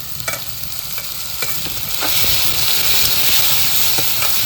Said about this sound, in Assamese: বিলাহীটো মই এনেকৈ হাফ ফ্ৰাই কৰি দিওঁ